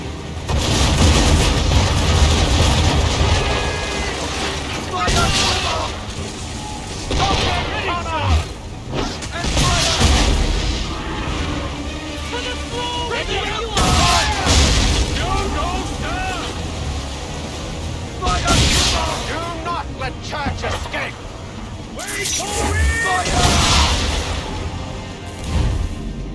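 Ship cannons firing in a naval battle in Assassin's Creed 3, repeated heavy booms and crashes over sea and wave noise, with shouted voices in between.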